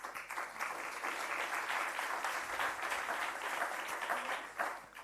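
Sustained applause from a conference audience at a regional attractiveness forum welcoming an OECD speaker, dense steady clapping throughout with no talk over it.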